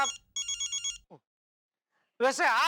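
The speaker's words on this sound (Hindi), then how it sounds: "तुम्हारा फोन बज रहा है" An electronic telephone bell rings in quick trilling bursts, then stops; after a short silence, a person starts talking.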